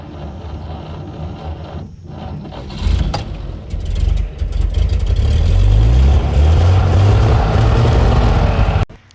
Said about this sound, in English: start the Buick, and go